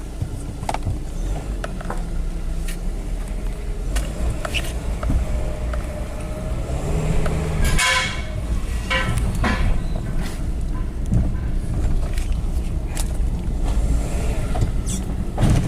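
A 2006 Hyundai Tucson with a power-loss fault drives on a test drive, giving a steady low cabin rumble with road noise, occasional clicks and rattles, heard from inside at moderate level.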